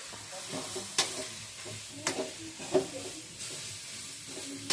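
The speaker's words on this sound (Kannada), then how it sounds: "ಸ್ವಲ್ಪ ಬ್ರೌನ್ ಕಲರ್ ಬರುವಂಗೆ ನಾವು ಹುರಿಬೇಕು ತಲಾಸಿಬೇಕು ಹುರಿಬೇಕು" Onions frying in a pan until browned, a steady sizzle broken by repeated scraping stirs, close by and with no talking.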